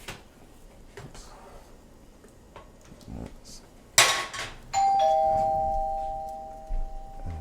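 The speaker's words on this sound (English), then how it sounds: "That's my doorbell" A sharp clatter followed by a sustained electronic doorbell tone that rings and slowly fades, with light household clinks around it.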